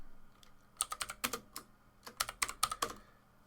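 Commands are typed on a computer keyboard in a Linux terminal, with irregular bursts of crisp close key clicks, a quick flurry, a pause, then another rapid run of keystrokes.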